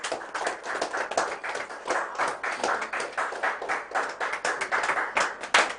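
An audience claps loudly and steadily at a prize draw event, dense overlapping hand claps continuing throughout with no talk.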